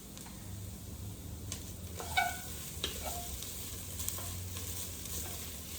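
Spaghetti alla vodka ingredients toast in a pot while being stirred, giving a soft, steady sizzle with a few light scrapes and clinks of the utensil against the pot.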